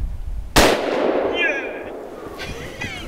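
A single loud 300 Win Mag rifle shot fired at a whitetail buck on Anticosti Island cracks out sharply and close, followed by a long rumbling echo that fades over a few seconds.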